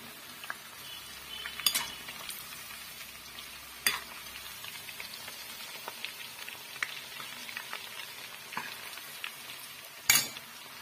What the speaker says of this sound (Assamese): ইয়াতে উটি কৰি সৈতে কেপচিকামৰ জলকীয়াটো আৰু পিঁয়াজ ভাজি ল'ম